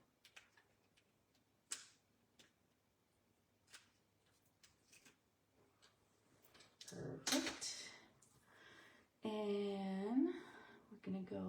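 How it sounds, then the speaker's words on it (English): Tape being torn off during a paper-craft stamping session: faint ticks and small handling taps, then a louder ripping and crackling stretch near the end, with voices talking at times. "let's pull this part off. Love tearing tape"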